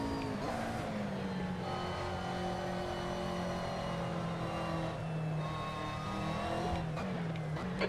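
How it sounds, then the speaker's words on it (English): A race car spins out at speed in a sim racing game on the Le Castellet circuit, with a steady loud engine drone and tire squeal running throughout and no voices over it. "Even at that speed, the car started to spin."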